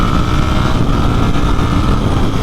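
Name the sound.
motorcycle being ridden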